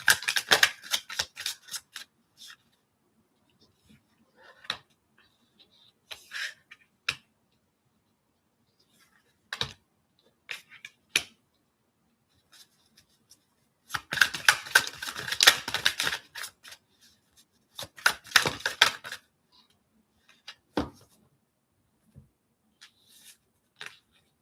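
Tarot cards shuffling at close range, heard as scattered crisp riffles and clicks in irregular bursts separated by quiet gaps, with two longer dense flurries partway through.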